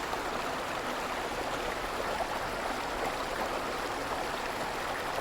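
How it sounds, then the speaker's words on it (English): A running brook in a state park in winter, its steady broadband rush of flowing water continuous and close throughout, with no voices. "a running brook is just so therapeutic, so beautiful."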